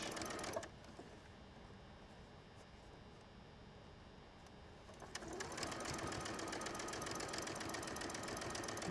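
A sewing machine stitches quilt pieces with a scant quarter-inch seam, a steady close mechanical whirr that pauses briefly near the start and then resumes louder and denser for the rest.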